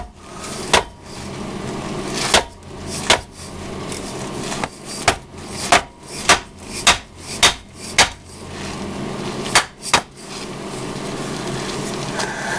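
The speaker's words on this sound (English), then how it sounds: "now we're going to take the dead blow hammer, just a plastic mallet, see if we can break the seal" Repeated sharp thuds of a plastic dead blow hammer striking the metal front differential cover of a 1996 Jeep Cherokee XJ, about a dozen blows at irregular intervals over a quiet background.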